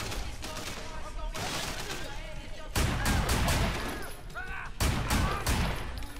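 Gunfire in the open-world action game Sleeping Dogs, dense bursts of shots and impacts in several loud clusters, with a voice talking over the shooting.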